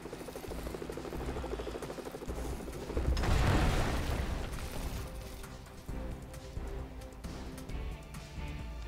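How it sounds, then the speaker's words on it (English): Helicopter in the Lego Marvel Super Heroes video game, its rotor drone running steadily through the scene and swelling loudest midway amid game action noise, with no talking. "Well, that helicopter did a whole lot of fuck all"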